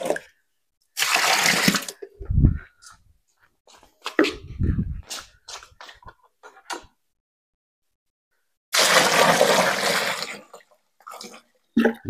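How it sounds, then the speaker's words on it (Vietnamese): Water pours in two long rushing bursts into a container for a garlic ferment, with clatter, handling noises and a low thump between them, close by and with no talk. "Rồi mình đổ nước vô rồi"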